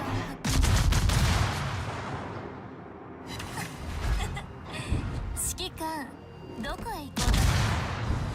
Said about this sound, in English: Look, I'm just firing 2 guns at you.